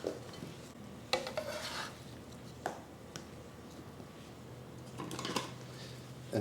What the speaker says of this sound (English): And toss them gently with a spatula.